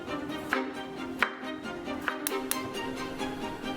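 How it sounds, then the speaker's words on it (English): A knife chops onion and tomato on a board in a home kitchen, with a handful of sharp, irregular cuts over a quiet background hum. "Start by chopping onion and tomato."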